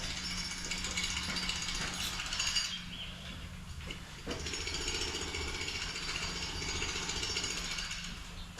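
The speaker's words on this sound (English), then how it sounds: "my neighbors decided to start jackhammering" A jackhammer rattles steadily in the distance, a continuous hammering drone with a brief dip midway, no voices present.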